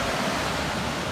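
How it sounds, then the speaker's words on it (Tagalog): A small river with strong, fast-flowing water gives off a brief, steady rushing wash of broadband noise at a moderate level, with no voices. "Ayan, may ilog malakas ang tubig. Pero maliit na ilog lang siya."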